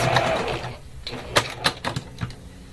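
Quilt squares are joined on a sewing machine with a quarter-inch seam: a short burst of whirring stitching, then a few sharp, separate mechanical clicks and thumps close by.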